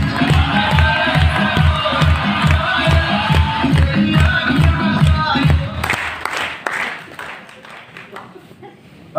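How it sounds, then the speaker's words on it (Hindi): An audience at a motivational MLM business meeting claps in a fast, loud, rhythmic unison with some cheering, then the clapping breaks up and trails off into scattered claps and crowd noise. "अब बजाओ ताली।"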